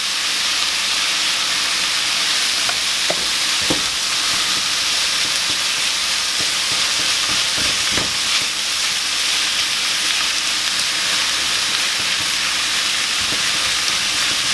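Ground steak and pork sizzle and crackle steadily as they brown in a pan, a dense continuous hiss with occasional sharper pops, close and loud with no talk.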